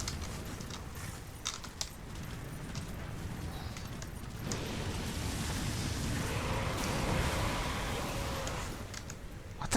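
A horse gallops in Darksiders Warmastered Edition, its rapid hoofbeats blending into a dense, loud rush of game noise that swells toward the middle and stays heavy to the end.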